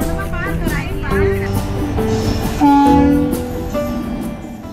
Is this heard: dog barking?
no